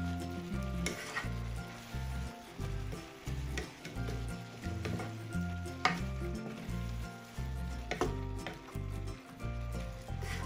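Prawns stir-fried with shiitake mushrooms in a pan give a constant close sizzle, broken by rhythmic scraping and tossing of a utensil against the pan.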